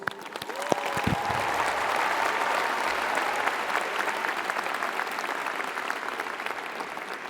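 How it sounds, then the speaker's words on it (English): Sustained audience applause fills an opening ceremony of the 8th ASEAN Para Games 2015, a broad, steady roar of clapping from a large crowd that swells in the first seconds and holds loud throughout without talk. "Give them a big applause."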